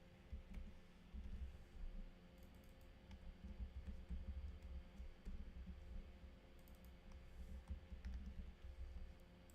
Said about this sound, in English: Let's quickly type this out.